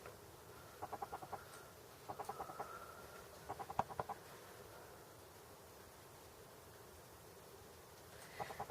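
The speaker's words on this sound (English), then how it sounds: "there is a bird having a fit outside my window" A bird squawks agitatedly outside a window in faint, distant bursts of rapid calls, coming in several clusters separated by quiet stretches.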